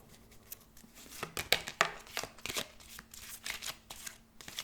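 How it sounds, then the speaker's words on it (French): Oracle cards being shuffled by hand, a quick run of crisp papery riffles and slaps in close succession, close and fairly quiet, with no talking. "J'ai jamais su mélanger ces cartes-là"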